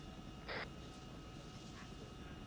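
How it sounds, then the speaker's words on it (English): A Chinook helicopter in Arma 3 drones as a low, steady rotor and engine rumble, faint and continuous, with a brief higher burst of noise over it. "Get out of the way of the Chinook's propellers."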